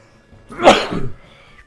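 One close, sharp sneeze bursts out on its own in a quiet room, with no talking around it.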